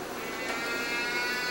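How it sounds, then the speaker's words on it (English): A cow moos in a drawn-out, moderately loud call that spans the whole moment, set against steady outdoor background noise. "Oh, that's a cow."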